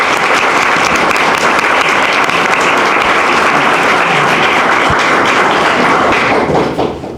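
Sustained applause from a gala audience at the Windsor Shad Derby, loud, dense clapping filling the room without a break and trailing off at the very end.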